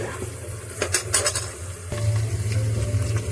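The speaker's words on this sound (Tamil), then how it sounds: "வெங்காயம் நல்லா வதங்கிட்டுருக்கு" Onions sautéing in a pan for a cowpea rice dish, with steady soft sizzling under repeated metallic clinks and scrapes from stirring, heard up close with no talking.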